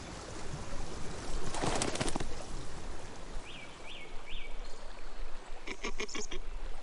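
A female duck in wild Chinese wetland calls out in three short, faint repeated notes over a steady background of flowing water, followed by a cluster of brief clicking sounds.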